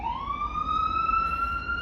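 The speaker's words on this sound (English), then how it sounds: "what's wrong with those sirens today?" A single siren wails steadily, its pitch sliding upward and then holding a clear, piercing tone, heard up close for about two seconds.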